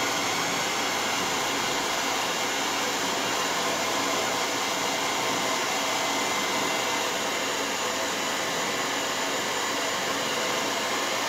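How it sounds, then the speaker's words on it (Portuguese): A hair dryer on its cold setting blows steadily while drying a decoupage lid, a loud continuous whooshing roar that holds unchanged throughout, heard alone without talk. "eu sempre uso o secador no modo frio"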